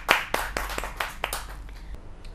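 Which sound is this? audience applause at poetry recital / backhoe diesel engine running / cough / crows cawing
audience applause at poetry recital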